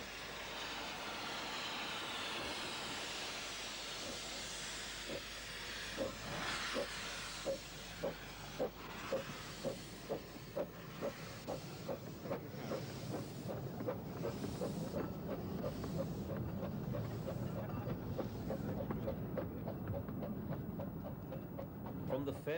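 A small steam locomotive, Samson of the Romney Hythe and Dymchurch Railway, hisses, then chuffs in a steady accelerating rhythm of exhaust beats, passing fairly close and loud.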